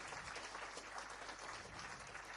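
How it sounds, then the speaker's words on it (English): Faint, steady applause from a small audience comes through during a cello livestream, a soft continuous patter of clapping that stays low in level. "Hey, thanks for the applause."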